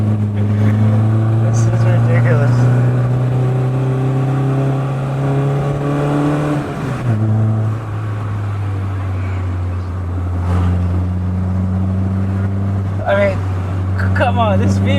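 A Peugeot 205 GTI engine driven flat out on a mountain road in Thailand, chasing a 405 MI16, a loud close steady drone that shifts pitch as it changes gear.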